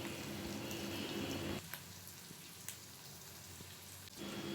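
Onions sizzling and being stirred in a frying pan for an egg korma, a steady close hiss with brief scraping stirs, dipping quieter midway before the frying noise swells again.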